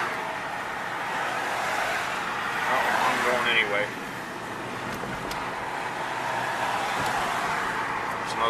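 Heavy traffic rolls past on a Florida road, a steady broad roar of cars and trucks with one vehicle swelling louder as it passes, while a person speaks briefly over it.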